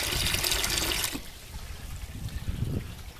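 Water pouring out of a rain barrel's piping in a strong flow, a loud rushing gush that cuts off after about a second, leaving a quieter trickle and splash behind.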